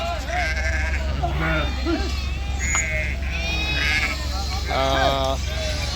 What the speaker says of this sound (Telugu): ఈ గొర్రెలు ఇవి బింగి గొర్రెలు